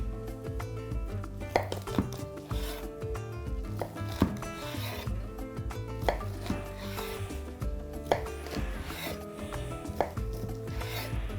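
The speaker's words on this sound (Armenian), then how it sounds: "Մեկ, երկու, երեք, չորս շերտ խոզապուխտ ենք վերցնում և կտրատում խորանարդիկների" A knife chops four slices of ham into small cubes on a board, giving a steady series of close, crisp strikes over a continuous tonal background, with no talking.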